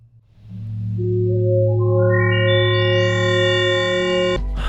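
A synth tone made from a picture of a lamp, with a steady low drone and a rising stack of bright harmonics that swell in over several seconds, heavily effected with chorus, echo and distortion, alone and loud.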